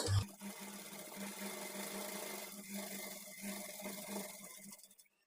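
Sewing machine stitching the front part of a blouse, a steady rapid mechanical whir with a constant low hum, running continuously close by and stopping at the end, no talk.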